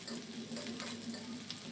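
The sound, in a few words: cumin and chopped onion frying in oil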